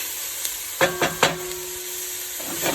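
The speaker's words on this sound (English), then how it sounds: "Stirring everything so you make sure that everything gets coated with the oil so it'll cook nice and even." Celery and other vegetables sautéing in oil as they are stirred, a quiet hiss broken by three quick scraping clanks of a utensil against the pan, with a faint ringing tone after them.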